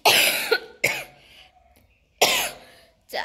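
One person coughs hard in three close, loud bursts separated by short quiet gaps, with rough throaty breaths between them.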